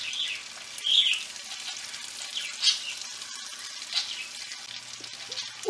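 Mushrooms sautéing in a pan give a soft, steady sizzle with brief scraping stirs, fairly quiet and close, with no talking.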